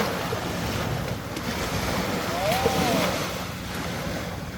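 Sea waves at Hundred Islands, Alaminos, Pangasinan wash in a continuous roar with gusty wind noise on the microphone and a faint voice briefly in the background.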